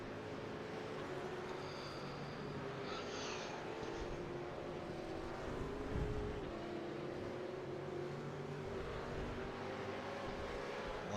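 V8 Supercars race at Virginia International Raceway. A distant, faint engine drone hums steadily, with one car's pitch sweeping past midway, heard from afar with no voices.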